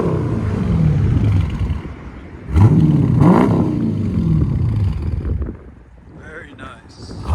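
A 2022 Dodge Durango R/T with a 5.7L V8 and Vibrant resonators with an X pipe idles with a steady low rumble, mixed with wind noise while someone talks over it.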